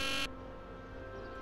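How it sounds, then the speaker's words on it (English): A door buzzer at the Hill Valley Courthouse in the Back to the Future video game, sounding as one loud, harsh electronic buzz that cuts off abruptly and leaves a steady low background hum. "there's a buzzer there. Let's see if we can get buzzed in."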